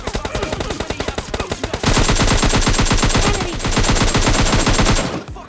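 AKM rifle gunfire in PUBG Mobile Lite, loud and close: rapid bursts of shots, then a sustained automatic spray that runs for several seconds before cutting off abruptly.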